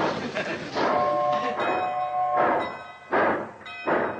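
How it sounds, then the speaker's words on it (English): A steam locomotive whistle sounds in several strong, tonal blasts as a train pulls out, with rumbling rail noise and faint voices mixed in. "Who's blowing that locomotive whistle?"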